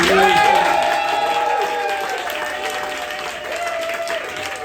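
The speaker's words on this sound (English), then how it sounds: "let's give Emily a round of applause" Audience applause at a comedy college show for comedian Emily, a dense steady wash of clapping that stays loud throughout with cheering voices mixed in and a host speaking over it.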